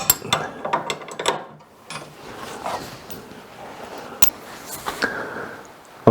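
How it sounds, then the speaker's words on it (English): Ratchet clicking in short bursts while undoing bolts on a rat rod transverse leaf spring, with metallic clunks and scraping between quick runs of clicks, close and moderately loud. "I'm going to start by taking out these bolts"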